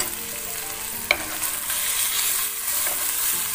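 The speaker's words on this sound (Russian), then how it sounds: "Продолжаем тушить, перемешиваем" Okra and tomato stew in a pan with a steady, close sizzle throughout, broken by one sharp tap of a utensil as the mixture is stirred.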